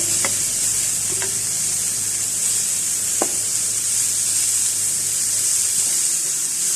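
Grated coconut bukayo cooking in a pan over low fire, a steady soft sizzle and hiss with a few light stirring scrapes.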